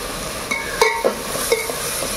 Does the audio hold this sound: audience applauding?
no